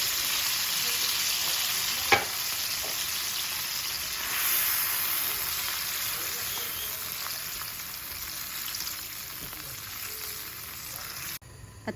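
Spicy adobo sauce with soy sauce and vinegar sizzles and fries in a pan for stir-fried Shin Ramyun noodles, a steady close hiss with a brief stirring clatter early on.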